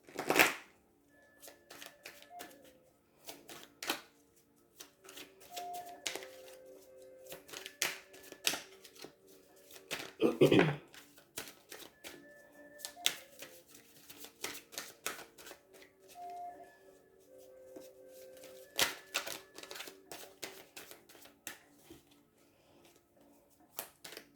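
Tarot cards are shuffled and drawn by hand close up, with repeated soft riffling flicks and papery slaps spread across a quiet stretch, plus one louder burst early and another midway.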